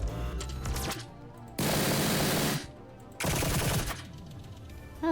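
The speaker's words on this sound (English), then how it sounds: "Fire weapon." Rapid automatic weapon fire from the Echoes Lucid9 fangame sounds in two loud, sustained bursts about a second each, with quieter clatter and thuds between them.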